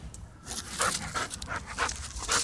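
A dog pants rapidly in quick rhythmic breaths close by, a steady series of breathy puffs with faint background noise and no talk.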